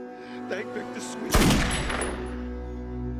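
A single loud gunshot in a crime film scene over a sustained tonal music bed, with a long ringing decay after the blast.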